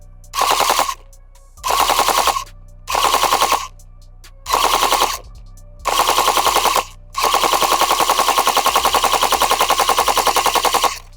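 A Tokyo Marui MK46 Mod.0 next-generation recoil shock airsoft light machine gun fires loud full-auto bursts at a target about 200 feet away: five short bursts of under a second each, then one long sustained burst, with no talking.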